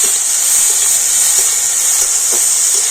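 Tomato, ginger and green chilli frying in oil, giving a loud, steady, bright hiss of sizzling that holds evenly throughout, close up and without speech.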